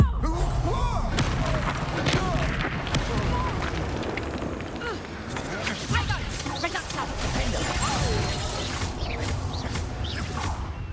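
Confringo blasting spells in Hogwarts Legacy burst in a chaotic run of loud crashes and booms. They come amid battle clatter and shouted voices and keep up without a break.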